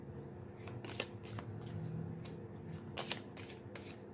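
Tarot cards being shuffled by hand: a soft, continuous riffling and sliding of cards with a few sharper snaps, close and fairly quiet, with no talk.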